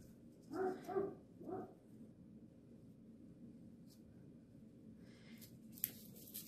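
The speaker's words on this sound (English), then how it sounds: "Excuse the dog." A couple of quick dog barks close by, followed by a quieter stretch of light rustling and a faint scratch.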